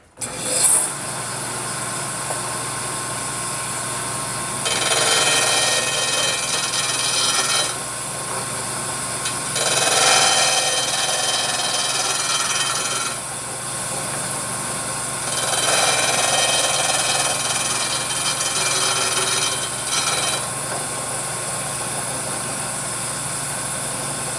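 Woodturning chisels cutting wood on a Shopsmith, a loud steady motor hum with repeated several-second bursts of rougher cutting noise as the tool engages the spinning wood, no talking.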